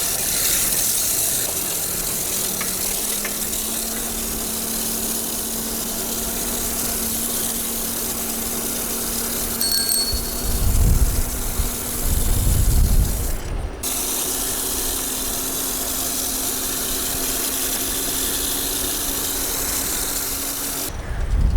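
Homemade bicycle driven by an alternator used as a motor, with a slipping clutch, whirring up and running steadily, a rising mechanical whine and ratcheting rattle with louder low thumps midway and a brief cut-out before it resumes.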